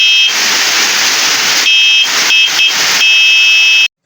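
Loud built-in electric horn on a bicycle headlight, sounding as a steady piercing electronic buzz-siren in several long blasts with brief gaps, close up, outdoors in the rain, ending abruptly.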